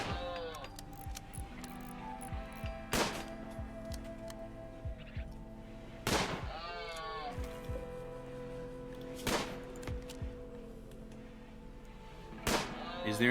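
Gunfire from colonist Owen in the RimWorld game, sharp shots spaced about every three seconds over a quiet backdrop of ticking and clinking game effects.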